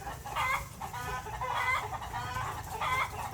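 Burmese chickens cluck and murmur close by in short repeated bursts, several birds calling over one another with no talking.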